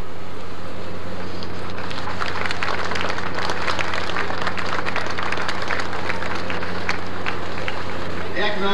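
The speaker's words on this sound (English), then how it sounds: "Give them a round of applause." Dense applause from the audience at the 1988 dedication ceremony for the WV Belle passenger boat, a sustained wash of many hands clapping with a steady low hum underneath for most of its length.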